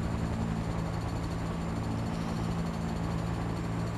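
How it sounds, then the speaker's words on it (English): A helicopter in the Battlefield 2042 video game gives off a steady, droning rotor and engine hum that holds at an even level throughout, with no talk over it. "See a helicopter in the air."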